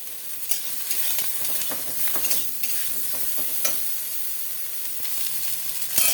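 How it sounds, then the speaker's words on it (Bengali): Eggplant pieces fry in mustard oil in a pan, a steady close sizzle broken by repeated scraping stirs and spatula knocks, with no voices. "সর্ষের তেল দিয়ে এই বেগুনগুলো ভেজে তুলে নেব।"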